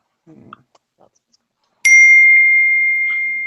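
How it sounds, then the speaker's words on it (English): A loud electronic notification ding sounds abruptly after a few faint small knocks and rustles, its bright tone ringing on and slowly fading for well over a second. "wish I could turn off these notifications for this. That's loud."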